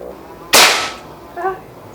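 A single sharp crack from a PCP Pasopati Big Game air rifle, loud and close, trailing off quickly, followed by a faint metallic ring.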